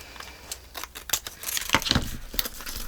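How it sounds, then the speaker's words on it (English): Close snipping of scissors cutting off a sack, mixed with crinkling and rustling of the bag material in quick, uneven bursts. "So we're going to cut that one off right there."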